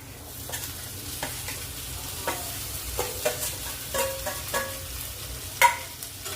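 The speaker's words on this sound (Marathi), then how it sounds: "आता यांना आपल्याला परतून घ्यायचं आहे मिक्स करून घ्यायचं आहे" Boiled, cut potatoes sizzle softly in a pan while a spoon scrapes and stirs in irregular knocks, steady low frying hiss throughout, no talking.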